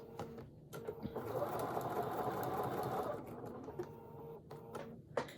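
A sewing machine stitches through a small appliqué wall-hanging quilt, running in a steady continuous burst for about two seconds before stopping, with quieter handling sounds around it.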